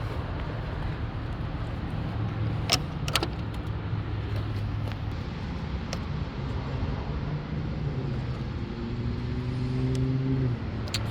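A 2005 Mercedes-Benz SL500 engine idles steadily at close range, a low even hum with a faint rising whine near the end and a couple of brief metallic clicks.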